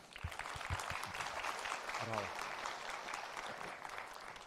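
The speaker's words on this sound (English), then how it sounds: "Big hand of applause for Mr. Sege one more time, please." Applause from the audience at a cyber security conference, soft and distant, a steady patter of clapping with a voice speaking briefly over it.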